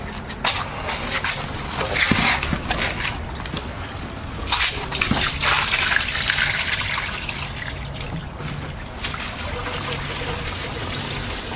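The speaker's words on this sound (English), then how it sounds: "We're actually pumping out the water and rust mix out this hole in the bottom." Water mixed with rust is pumped out through a small quarter-inch hole in the bottom of a compressed air receiver tank, a steady trickling, splashing flow that runs for the whole stretch with some irregular gurgling bursts.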